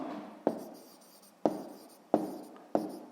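A pen or marker taps and scratches out numbers on a surface, four sharp strokes at irregular intervals, each starting with a crisp tap and trailing into a faint scrape, quiet and close.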